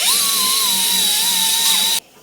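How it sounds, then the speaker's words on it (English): A power buffer whirs steadily at high speed while polishing engine parts on a 327 engine in a shop, a loud continuous tonal whine lasting about two seconds before cutting off abruptly. "Tick Buff, I'm gonna finish buffing this off"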